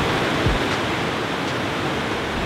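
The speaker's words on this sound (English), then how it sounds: "We're out here at a waterfall hiking up." A mountain waterfall pours in a constant, loud hiss and roar from close range, a dense, even wash of falling water with no voices over it.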